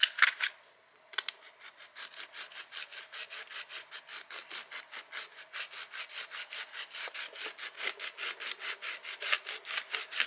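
Steady back-and-forth rasping of sandpaper on a part of a 150-year-old Rob Roy 112 cast wood stove door, fast rhythmic strokes continuing after a brief pause near the start, close and moderately loud, no talking.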